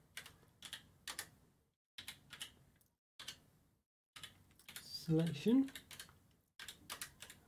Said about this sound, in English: You want to hear my keyboard typing it?